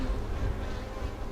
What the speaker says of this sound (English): There appears to be two kinds of bees by this hive right now.